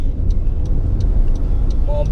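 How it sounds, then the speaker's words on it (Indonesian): Honda CR-V SUV rolling along a road, with steady low road and engine rumble throughout, faint ticking, and a brief tonal chirp near the end. "Nah ini kita nyoba pakai Honda CR-V"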